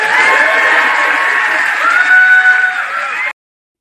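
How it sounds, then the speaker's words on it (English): A crowd applauding and cheering loudly and steadily for a few seconds, with some whoops mixed in, then cutting off abruptly. "Please give her a big round of applause."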